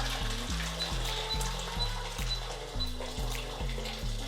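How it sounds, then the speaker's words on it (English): Boiling water poured from a kettle into a cooking pan for a quick creamy Cajun pasta, a steady liquid splash running throughout under a repeating low musical backing. "to your pan, you're just going to fill it up with some water"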